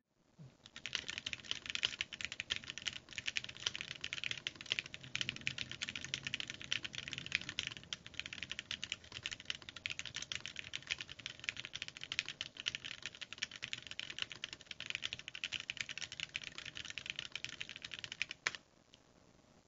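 A Keebsforall Freebird TKL mechanical keyboard is typed on in a fast, steady stream of close, crisp keystrokes lasting nearly twenty seconds, with no voice.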